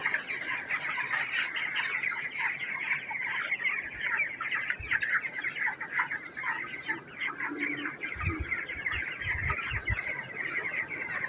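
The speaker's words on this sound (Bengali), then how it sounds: "অনেক গরম সব মুরগি বৈশা বৈশা ঘুমাইতেছে" Chickens in a hot poultry shed keep up a steady, dense chorus of clucks and chirps, with occasional louder squawks and low thumps near the end.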